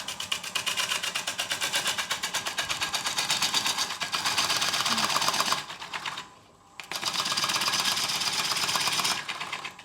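A wood lathe turns a bowl blank during a coring demonstration, giving a loud, steady rattling drone with rapid rhythmic chatter that cuts out briefly near the end before resuming.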